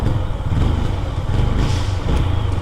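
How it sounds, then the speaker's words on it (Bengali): A motorcycle with a cut silencer pipe gives a loud, rough, low-budget exhaust note, a close continuous throbbing rumble with slight pulsing and no voices. "সাইলেন্সার পাইপটা কাটানোর পরে আমার বাইকের সাউন্ড পুরা মানে লো বাজেট এক্সস্ট হয়ে গেছে"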